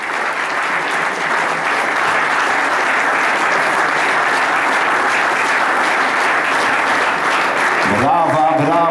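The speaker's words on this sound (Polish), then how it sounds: "Wielkie brawa." Hall audience at an award ceremony applauding the team of the year, a dense, loud, continuous round of clapping that fills the room, ending as a voice starts to speak.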